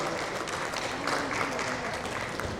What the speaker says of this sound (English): A big round of applause to Mr. Mohapatra